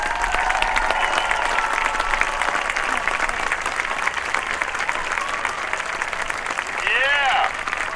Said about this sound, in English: So, band, when I call your class, stand up and let's clap for them all.